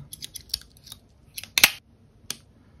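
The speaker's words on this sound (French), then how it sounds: "Il faut vraiment l'ouvrir à fond et vous pouvez couper des petits câbles, des petits fils." Victorinox SwissChamp Swiss Army knife pliers snipping small wire, a few light metallic clicks followed by one sharper, louder cut and a final click, close up and quiet in between.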